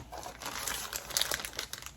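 Crinkling of an Amazon Prime mailer package being torn open, close and fairly loud, with irregular rustling bursts across two seconds and a sharper cluster near the middle.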